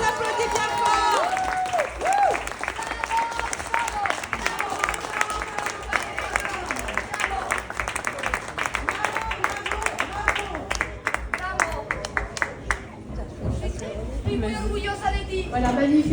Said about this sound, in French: Bravo, on les applaudit bien fort.